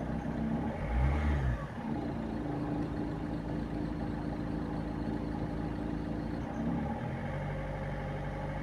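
A Peugeot 206 1.4 HDi diesel engine revs briefly near the start, then holds a steady, fairly loud drone, with no distinct clatter standing out.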